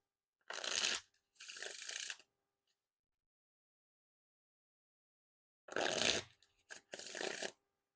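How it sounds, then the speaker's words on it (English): Red Lucky Draw playing cards by Art of Play are riffle shuffled, close up, in two pairs of quick ruffling bursts separated by a long quiet pause. "And now time for the riffle shuffle or bridge shuffle."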